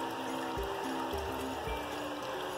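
Water drains down a household sewer pipe from a second floor, a steady rushing trickle with a few low gurgling thumps, continuous and close.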